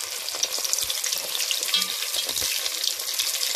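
Brik pastry filled with tuna, potato and black olives sizzles steadily in a pan of hot oil, a continuous close crackling hiss with small pops and no voices.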